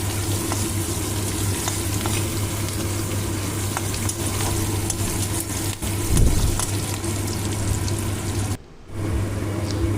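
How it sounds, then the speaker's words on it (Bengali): Onions fry in a pan for an okra and prawn dish, sizzling in a continuous close hiss with a low steady hum, scattered small crackles, and a brief dropout near the end. "এবার পেঁয়াজটাকে একটু ভেজে নেব"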